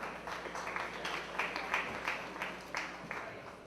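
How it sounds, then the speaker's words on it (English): Scattered, fairly faint applause from an audience honoring a young prize winner and his family, with individual claps standing out over a murmuring room. "Please give a round of applause to Farnveer Singh and his family."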